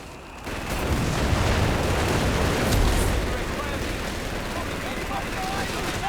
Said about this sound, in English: Bishop barraging up the top here